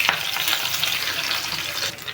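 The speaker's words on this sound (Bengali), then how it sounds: "ভাজা হোক, তেলটা বেশি পড়ে গেছে।" Chillies, garlic and onion frying in plenty of hot oil in a pan, a continuous dense crackling sizzle heard up close, loud and steady with no voices.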